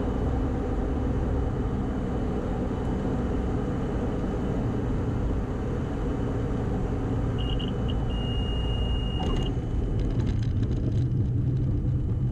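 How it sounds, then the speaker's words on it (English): A small plane rolls out along the runway after an automatic landing, a steady engine and wind rumble running throughout, with a brief electronic tone partway through and some clatter near the end. "the autoland has just completed our landing for us"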